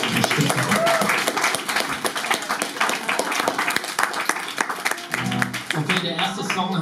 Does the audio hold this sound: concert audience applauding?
yes